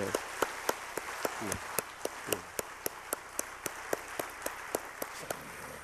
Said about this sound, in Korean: 우리 뜨거운 박수로 감사하십시다.